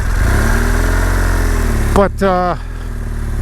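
BMW R1200 GS Adventure motorcycle with a boxer engine, loud steady engine drone throughout, with a brief rev rising and falling near the end while a person talks over it.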